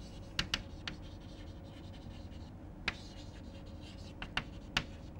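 Pen or chalk scratching out notes during a mathematics lecture, a few quiet strokes and taps in short bursts separated by pauses, against a faint room hum with no talking.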